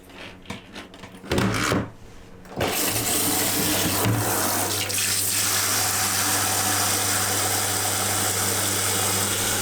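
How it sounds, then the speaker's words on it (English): Water gushes steadily from a shower hose on a sailboat into a container, a continuous broadband rush following a few clunks and handling knocks at the start. "And fill it up with water."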